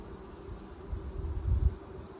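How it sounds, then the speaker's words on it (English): Honeybees hum steadily at an open hive while Saskatraz queens are being installed, a close, even drone with a brief swell of louder buzzing and handling bumps near the end. "I can shake some bees into that"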